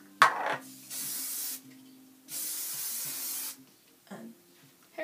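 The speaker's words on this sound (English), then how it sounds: "And hairspray." Hairspray misted over freshly curled hair in two long, steady hissing bursts, close and fairly loud, with soft handling and rustling sounds in between.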